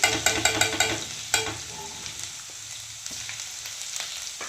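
Chopped garlic sizzles in hot oil with a steady crackle, joined at first by a few quick clinks and stirring scrapes, close and moderately loud.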